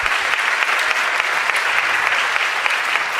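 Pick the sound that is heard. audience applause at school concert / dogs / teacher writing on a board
audience applause at school concert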